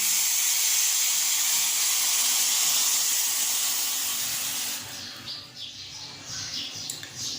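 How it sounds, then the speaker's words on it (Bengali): Boiling water hisses steadily as it is poured from a pot over Maggi instant noodles in a bowl, a loud continuous rush that thins into softer trickles and splashes near the end. "জলটা ফুটে গেছে, এবার আমরা জলটা ম্যাগিটার মধ্যে ঢেলে দেব।"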